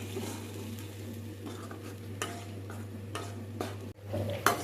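Tomato paste being stirred in a cooking pan, soft spoon scrapes and taps over a low, steady hum, with a louder clatter near the end.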